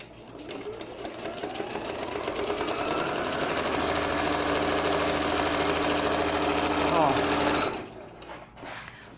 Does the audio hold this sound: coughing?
no